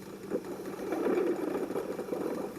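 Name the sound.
machine pulleys running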